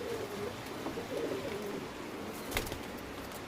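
Ablook pigeons in a loft give soft, low, repeated coos, fairly faint against a steady background hiss, with a brief clatter near the end.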